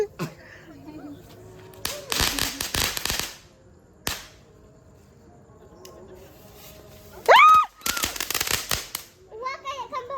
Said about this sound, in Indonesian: Wah, kayak kembang api asli.